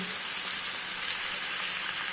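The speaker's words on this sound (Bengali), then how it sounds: "আর এদিকে আমি আলু ভাজাটা চাপিয়ে দিয়েছি" Potatoes fry in mustard oil at home, producing a steady, even hiss of sizzling that holds at a constant level throughout, close and unbroken, with no speech.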